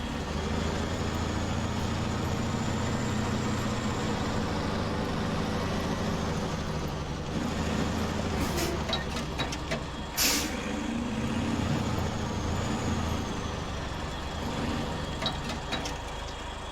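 A heavy truck in SnowRunner, Vologda Region, maneuvers with a steady low engine drone, a sharp air-brake hiss bursting in near the middle and brief clanks after, with no talking.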